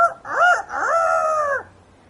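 A single rooster crow rings out, a short rising note followed by a long drawn-out call, clear and close, then quiet.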